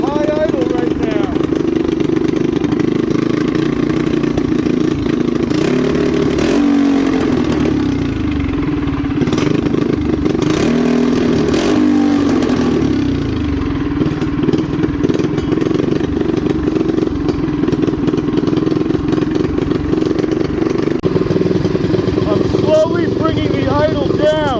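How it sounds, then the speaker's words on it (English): A vintage custom mini bike's small engine runs steadily at a high idle, a continuous loud mechanical drone that fills the whole stretch with slight wavering. "I have it worked to a high idle right now."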